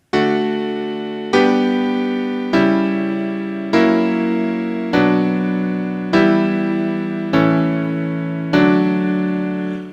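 Piano chords spell a secondary dominant, V of vi, resolving to the tonicized sixth degree: eight struck chords in an even rhythm, each decaying before the next, clear and alone.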